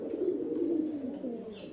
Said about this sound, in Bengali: এই থরের কবুতরগুলো ডাকাডাকি করতেছে